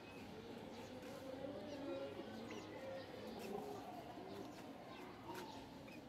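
Pigeons coo faintly on a rooftop garden where pigeons and chickens are kept, with soft repeated low calls and occasional chirps over a quiet background.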